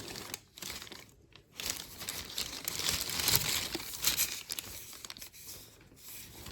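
A plastic bag full of potatoes crinkles and rustles continuously as they shift around inside, close up and fairly quiet.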